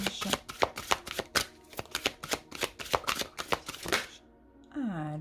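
Tarot cards being shuffled and cut by hand, a quick run of crisp riffling slaps and flutters in steady rhythm, close and clear, followed by a brief sung or hummed tone at the end.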